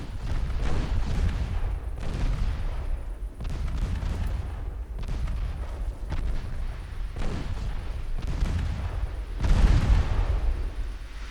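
Naval 6-inch and 5-inch guns fire in an Ultimate Admiral Dreadnoughts battle, with repeated heavy booms at uneven intervals over a constant low rumble and one especially strong blast near the end.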